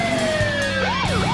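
A two-tone movie-style police siren on a retro Chevy Caprice patrol car in GTA 4 sweeps up and down steadily, loud and close, over a low engine rumble.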